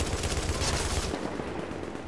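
Gunfire in The Division's Dark Zone: a rapid, dense stream of shots for about a second, then trailing echoing fire, loud and close.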